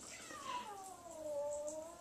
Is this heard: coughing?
no